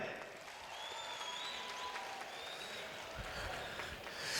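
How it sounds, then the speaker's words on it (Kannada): An audience at a prize ceremony applauds the gold-medal toppers. The clapping is steady and fairly distant throughout, swelling slightly at the very end. "ಈ ಟಾಪರ್ಸ್ಗೆ ನಿಮ್ಮ ಜೋರು ಚಪ್ಪಾಳೆ"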